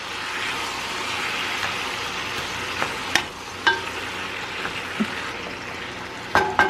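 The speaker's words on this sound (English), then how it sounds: "Give it a little stir." Filipino vegetables with pork fry in a pan, a steady close sizzle broken by a few scraping clacks of a utensil as the mixture is stirred.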